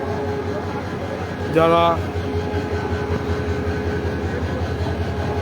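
A train rake stands at Parbatipur railway station, its engine giving a steady low diesel rumble throughout, with a short tonal blast partway through and a voice briefly heard.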